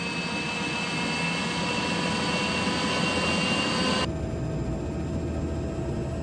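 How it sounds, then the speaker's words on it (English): An Alouette III helicopter in X-Plane 12 spools up its rotor blades with a steady turbine whine and broadband rush; the high whine drops away abruptly partway through while the low roar continues, no voices. "inertia of the rotor blades spooling up is actually shaking the helicopter"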